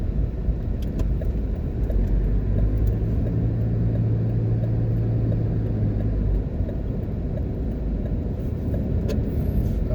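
A car drives into the airport at Montego Bay, Jamaica, with a steady close cabin rumble of engine and road noise throughout and a low hum in the middle, no talking.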